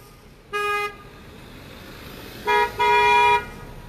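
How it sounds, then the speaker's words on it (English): Car horns honk repeatedly from a steady procession of motorists at a drive-by protest over a proposed Chick-fil-A in Camp Hill, with one short toot followed by two longer blasts over traffic noise. "Motorists have been asked to drive by and honk their horns"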